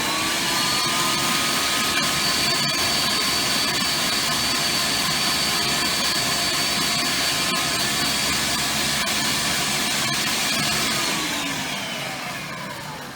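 A blender with a blade cup attachment chopping apples roars in a loud, steady whine for about twelve seconds before winding down at the end.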